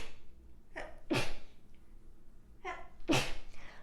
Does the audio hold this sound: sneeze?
yes